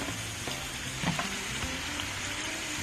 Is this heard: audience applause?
no